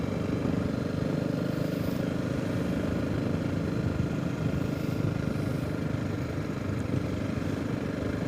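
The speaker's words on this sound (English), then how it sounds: "I'm giving this Honda CRF300 Rally a first ride" Honda CRF300 Rally motorcycle riding on the A5 road near Bethesda in North Snowdonia, with a steady engine drone and wind roar running continuously at even loudness.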